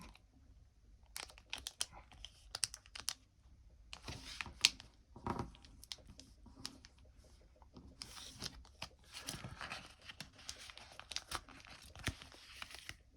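Paper MACV identification card holder being folded by hand, with close, quiet crinkles, creases and scattered crisp rustles in irregular bursts, no talk.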